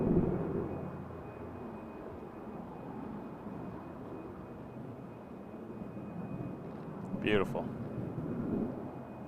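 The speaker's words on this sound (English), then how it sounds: "So that was Air Canada 222 departing to Calgary." An Air Canada passenger jet departing Vancouver airport for Calgary, a distant broad rumbling roar holding steady and swelling slightly near the end, with a brief spoken word from a nearby voice.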